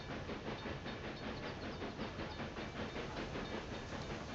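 A locomotive in the Railway Empire game rolls past as a dense, steady roar of rumble and steam-like hiss with faint rhythmic pulsing, loud and unbroken throughout.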